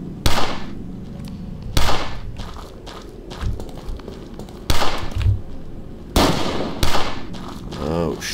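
Repeated sharp gunshots from a zombie firing a gun in the game Fort Zombie, with about six loud cracks at irregular intervals over rustling, footstep-like noise.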